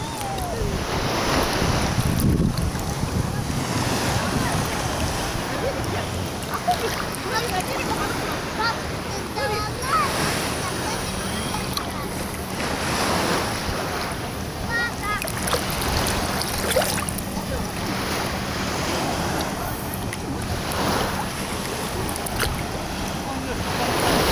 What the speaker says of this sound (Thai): บรรยากาศทะเลนะครับผมแล้วก็ชายหาด